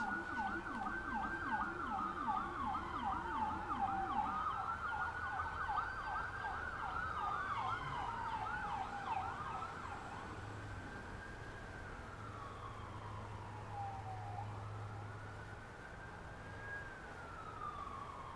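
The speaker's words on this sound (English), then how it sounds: "That's an ambulance." An ambulance siren wails in rapid, repeating yelps, then shifts into a slower rising and falling wail as it passes at moderate distance, with steady traffic rumble underneath.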